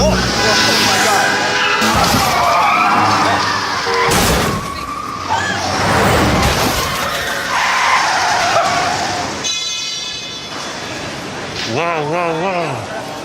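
A video-game car crash at a hacked traffic light: tires skid and squeal, heavy impacts and crunching bursts, with people talking excitedly over the chaotic, loud sequence and a wailing siren-like tone near the end.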